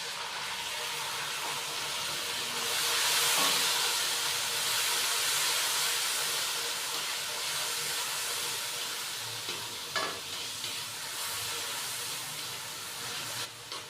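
Water hits hot oil with whole cumin seeds, a sustained sizzle that swells and fades, with a few faint clinks of stirring near the end.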